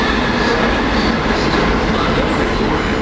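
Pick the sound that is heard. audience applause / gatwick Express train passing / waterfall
gatwick Express train passing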